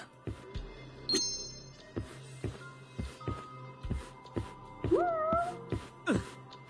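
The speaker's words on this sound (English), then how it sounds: "Where's this cat at? He's like right in my ear." A cat in the video game Judgment meows close by, with rising wavering calls over footsteps and light clinks from the game.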